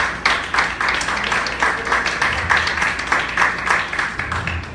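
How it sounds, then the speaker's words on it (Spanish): A church congregation claps and applauds, a dense rhythmic patter of many hands close and loud, holding steady for several seconds with no talk over it. "Denle un aplauso fuerte al Señor"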